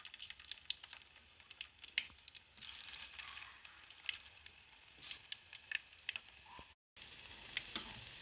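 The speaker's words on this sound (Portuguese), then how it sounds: "Agora vou fritar. Já está esquentando aqui." Small pieces of churro-dough biscuit fry in hot oil, giving a steady, quiet sizzle with scattered crackles and pops. The sound is close but low in level, and nobody speaks.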